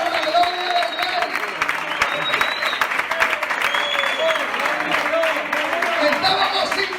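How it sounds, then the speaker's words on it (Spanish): A church congregation breaks into loud, dense applause during a sermon, clapping continuously with some voices and cheers mixed into the crowd noise throughout. "Dale ese fuerte aplauso si es para la gloria del Rey"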